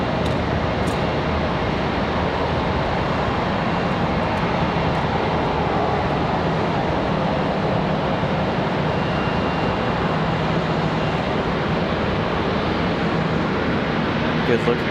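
A Boeing 737 airliner descends on approach to land at Charlotte Douglas airport, producing a dense, steady roar of jet noise that stays constant and loud throughout.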